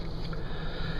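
A congested nose sniffing once, close and brief, a short breathy rush of air over a low background hum, with no speech.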